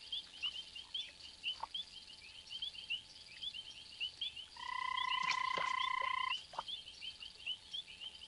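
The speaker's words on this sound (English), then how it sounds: "About 40 frogs are contributing to this nest" Frogs croaking at a communal nest, giving a steady chorus of soft, repeated close calls with one louder, sustained croak in the middle, and no voices.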